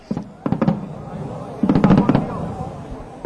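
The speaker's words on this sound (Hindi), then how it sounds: "अयोध्या के आकाश में इस वक्त अद्भुत आतिशबाजी का नजारा" Fireworks burst over Ayodhya during the Deepotsav festival, two clusters of rapid crackling bangs with a lighter pop between, fairly loud and distant-sounding, with a faint voice in the background.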